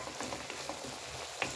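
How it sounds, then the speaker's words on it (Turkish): Fat for kokoreç melts and sizzles in a covered pan, a soft continuous crackle with small pops, fairly quiet and heard alone. "Şöyle yağ güzelce eriyor."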